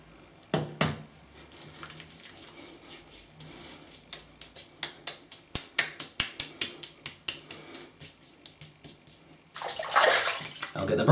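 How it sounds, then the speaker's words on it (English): Shaving soap suds are scooped out of a tub with a brush, giving a quick series of soft wet taps and scrapes at close range, ending in a louder burst of frothy swishing. "I'm just going to take this, these kind of suds that are left over in the tub. Just scooping them all out."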